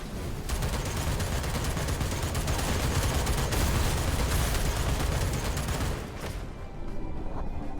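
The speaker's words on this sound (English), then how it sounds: "We're gonna use the missiles." Mech in the Phantom Brigade video game firing missiles, a dense, loud, continuous barrage of launches and explosions rolling for several seconds before easing off near the end.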